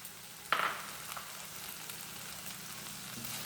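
Coriander leaves being sautéed briefly in a pan for a small onion chutney, a soft short burst of sizzle near the start fading into a faint, steady frying hiss with no voices.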